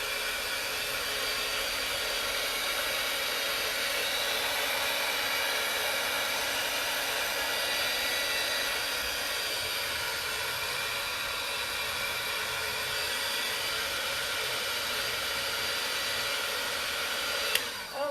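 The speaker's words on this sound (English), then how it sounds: "you can take your heat gun and heat it up while it's on here just a smidge" A heat gun blows a steady, even rush of hot air onto WoodUbend moulding on a bathroom vanity, droning close and continuous with a brief click near the end.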